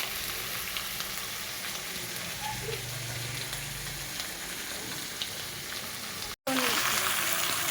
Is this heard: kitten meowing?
no